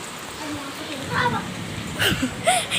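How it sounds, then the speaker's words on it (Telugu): Heavy rain pours steadily in a city as a continuous broadband hiss and patter. Brief voices and a child's sounds rise over it near the end. "ఎంత పెద్ద వర్షము."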